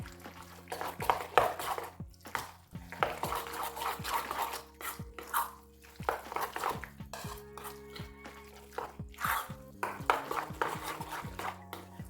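Repeated wet squelching and scraping as a minced meat mixture with egg and sour cream is stirred in a bowl, with occasional clinks of a utensil against the side.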